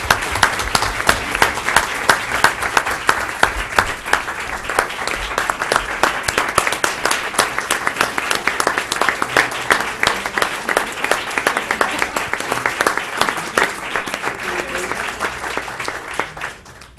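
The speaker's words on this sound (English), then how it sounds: "Another round of applause." School board meeting audience applauding a departing member, sustained even clapping from many hands, close and steady for over fifteen seconds before tapering off at the end.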